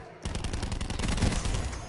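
Burst of rapid gunfire from a zombie video game, dense and loud, starting abruptly after a brief quiet moment and rattling on steadily.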